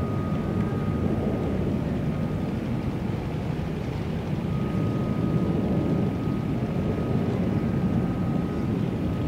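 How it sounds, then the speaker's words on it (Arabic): Russian warplanes circle high over Eastern Ghouta near Damascus during airstrikes, a steady, distant jet-engine roar that hangs evenly in the sky throughout, mixed with wind rumble and no voices. "ثلاث طائرات حربية في سماء الغوطة الشرقية تقصف مدن وبلدات الغوطة الشرقية"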